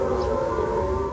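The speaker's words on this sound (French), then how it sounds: "Les Nord-Coréens diffusent par haut-parleurs des bruits assourdissants que l'on entend clairement." Deafening loudspeaker noise broadcast across the border from North Korea, heard in a South Korean village, a steady wailing siren-like drone that is continuous and droning for a brief stretch.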